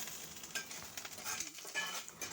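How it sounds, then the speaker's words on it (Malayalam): Grated coconut, fennel and black pepper dry-roast in a very hot pan over a wood-fired stove, giving a faint, close crackle mixed with scraping stirring strokes. "അതേപോലെ കുരുമുളക് ഇട്ട് കൊടുത്തിട്ടുണ്ട്. അപ്പോൾ തന്നെ മൂത്ത് വന്നിട്ടുണ്ട് കേട്ടോ."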